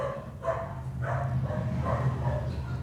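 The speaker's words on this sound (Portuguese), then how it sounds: "Olha a cachorra latindo." A female dog barks in short repeated bursts at steady intervals, fairly close, over a constant low hum.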